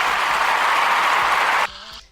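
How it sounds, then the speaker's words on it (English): A crowd applauding a couple at a talk show, dense steady clapping that stops abruptly near the end. "Let me give them applause."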